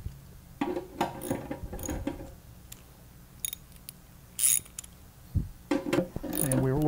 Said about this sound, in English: when we start ratcheting these bolts, the little wings are going to come out, and it's going to secure it to the floor